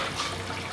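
Water pours steadily into a dog's bath, a brief continuous splashing rush with no voices.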